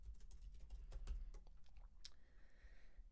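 Text is typed into a spreadsheet financial model on a computer keyboard, a faint run of quick, soft keystrokes over low background noise.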